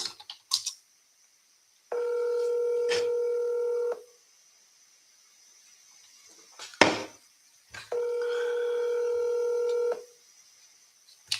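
Mobile phone keypad dialing, two long steady touch-tone beeps a few seconds apart, each lasting about two seconds, with a sharp click and faint handling noise between them in a quiet room.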